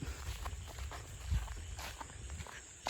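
Soft footsteps cross ground at night on the way to check a rat trap at a bamboo campsite, a few quiet irregular steps with faint background noise.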